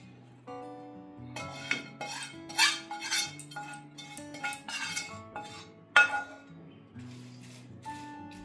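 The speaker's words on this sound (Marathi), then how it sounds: "तो मी या पोह्यांमध्ये मिक्स करून घेते।" Spice masala being stirred into roasted poha for a crisp chivda snack, with a spoon clinking and scraping against a metal pan or bowl in uneven bursts, over a steady tonal background and no talking.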